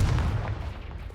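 A short, sharp boom from the Confringo fire spell in Hogwarts Legacy, a single close blast that fades quickly.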